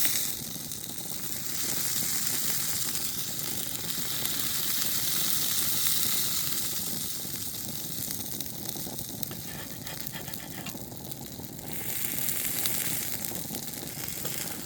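Fish coated in instant mashed potato flakes and cornmeal fries in a well-oiled skillet, giving a steady, close, broadband sizzle and crackle that holds unbroken for about fifteen seconds with slight swells in intensity.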